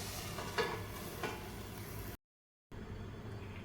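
Cashews and tomatoes with onions sautéing in a pan for butter chicken, a soft steady sizzle with occasional stirring scrapes, briefly cut to silence before the frying resumes.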